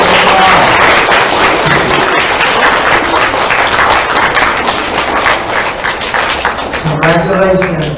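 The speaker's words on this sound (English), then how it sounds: "round of applause" An audience at a 3rd and 4th grade end-of-year school award ceremony gives a class a loud, dense round of applause that stays full throughout before a voice briefly cuts in near the end.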